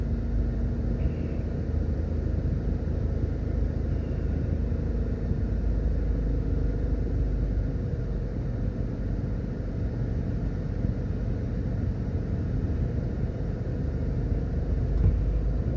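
Steady low rumble of a car driving along East Street toward the harbour in downtown Kingston, Jamaica, a continuous muffled interior drone with no talk.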